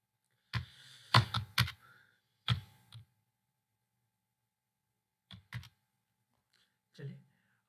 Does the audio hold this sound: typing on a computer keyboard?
yes